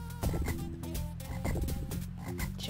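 Frog croaking in the Sega video game The Lion King, a loud repeating rhythmic croak pulsing about twice a second, up front and alone.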